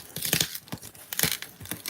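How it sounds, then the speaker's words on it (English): A cardboard shipping box is opened by hand, with a few sharp, close tearing and crinkling bursts separated by brief pauses, quiet and without talk. "I think I'm going to go ahead and open the box."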